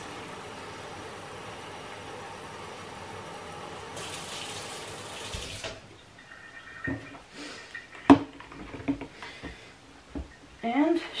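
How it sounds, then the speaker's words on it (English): Cold tap water rushes steadily into a spray bottle for about five seconds, then cuts off, leaving a few soft plastic taps and knocks close by. "I will just fill it up with water. I use cold water for this."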